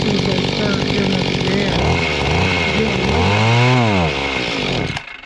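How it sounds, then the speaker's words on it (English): A Mantis tiller's small two-stroke engine runs loud and steady, its pitch swelling and sagging as it revs, then cuts out abruptly near the end. "let me see if I can get it to go again"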